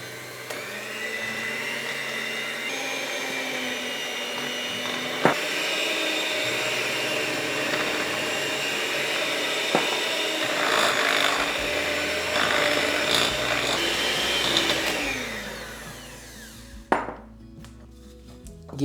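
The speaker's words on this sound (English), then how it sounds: "Start on a gentle setting when you are blending in the flour." Electric mixer running steadily at higher speed while flour is blended into apple cookie dough, a continuous motor whir with a few knocks near the end before it cuts off.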